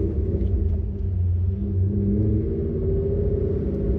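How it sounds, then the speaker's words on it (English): A Chevrolet Corvette Z06 engine runs with a steady, deep low rumble, close and continuous throughout, with no revving. "The car sounds so good."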